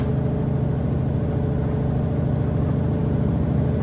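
A car hauler truck swings out wide for a turn, its diesel engine droning at a steady, close, loud pitch with a faint rhythmic pulse and no voices.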